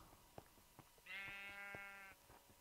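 Sheep bleat once in the Minecraft video game, a single drawn-out, wavering call of about a second standing clearly above a quiet background of faint clicks and ticks.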